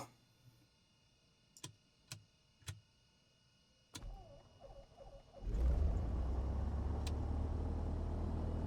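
A Piper Arrow III engine in Microsoft Flight Simulator 2020, preceded by a few sharp switch clicks, then catching and settling into a loud, steady drone as the throttle is cracked open.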